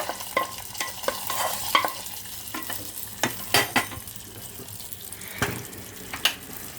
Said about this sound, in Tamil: இதை இந்த நெய்யோடு அப்படியே ஊற்றிடலாங்க